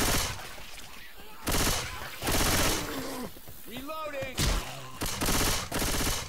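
Burst-fire weapon shooting in Left 4 Dead 2, loud repeated short volleys chopping through the scene while players shout and call out over the gunfire.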